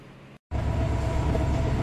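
Mahanagar Provati intercity train pulling out of Kamalapur station in Dhaka, hauled by locomotive 3001: a steady, loud rumble of rolling wagons after a brief dropout, continuous and close.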